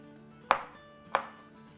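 A knife roughly chops peeled garlic cloves taken from the freezer, striking the board twice in close, crisp knocks with a short ring after each, in an otherwise quiet kitchen.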